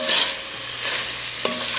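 Turkey tenderloin pieces browning in a very hot pan, a loud continuous hiss and sizzle with a few brief scrapes of stirring, no voices.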